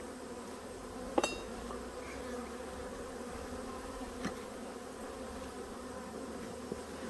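Honey bees buzzing steadily around an open hive during a late-August inspection: a dense, even drone nearby with a few faint clicks and knocks.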